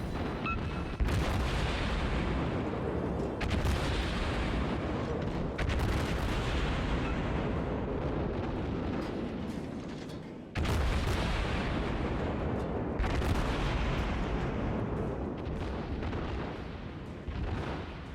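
Warship naval guns firing in the World of Warships video game, heavy booming salvos one after another over a constant loud rumble, with sharp blasts at intervals and no talk.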